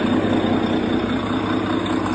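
Boat engines run at a steady idle, a loud, even mechanical drone with a constant low hum and no breaks, heard close up while checking for a fuel leak.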